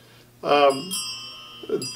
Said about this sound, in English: this is called Sanctus bells